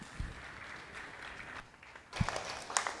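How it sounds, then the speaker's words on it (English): Spectators at a junior beef cattle show applaud for a class of crossbred cattle, a faint, distant spatter of clapping in a large arena, with a few louder nearby thumps and knocks. "Give those guys a nice round of applause."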